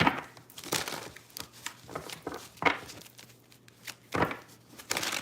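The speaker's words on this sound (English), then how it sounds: "I'm gonna shuffle a few more times." Tarot cards being shuffled by hand, close and crisp, with irregular riffling bursts and soft papery slaps repeating over several seconds, no talk.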